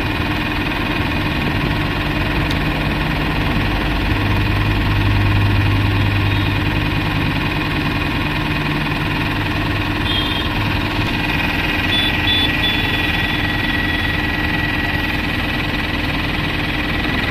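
A Mahindra Maxximo engine idles steadily with a low pickup fault, giving a loud, constant diesel rumble with slight vibration that carries on unchanged throughout.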